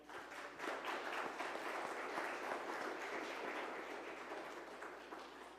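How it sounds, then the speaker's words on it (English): A church congregation applauds its worship team, a full room of steady clapping rising quickly, holding for several seconds and then tapering off, heard from a distance at low level. "can we give them a round of applause?"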